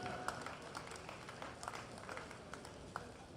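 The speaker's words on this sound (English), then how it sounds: "I think we can give both of those gentlemen a huge round of applause for some great, exciting racing" Faint, distant crowd applause ripples through a track cycling velodrome at the Masters Track World Championships for two men's 55–59 racers, a steady patter of clapping with a few sharper claps and a murmuring voice underneath.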